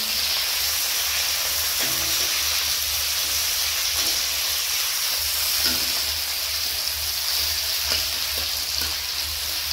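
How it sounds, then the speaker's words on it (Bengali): Chopped onion sizzles steadily in hot oil in a village kitchen, a continuous close hiss with occasional soft clicks and stirring, no one speaking. "তেল গরম হয়ে গেছে, এর মধ্যে আমি পেঁয়াজ দিয়ে দিচ্ছি। এবার একটু ভেজে নিচ্ছি।"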